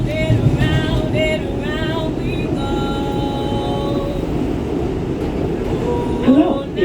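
New York City subway train moving, a steady loud rumble with rail squeal tones and rattling throughout, heard from inside the car.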